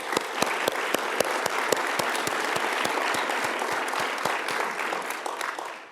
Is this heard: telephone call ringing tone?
no